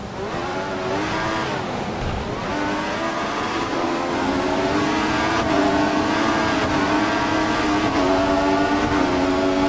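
Formula 1 race cars in the video game F1 2014, at the Chinese Grand Prix, roar continuously with loud high-revving engines and rising upshift whines as several cars jostle closely through traffic.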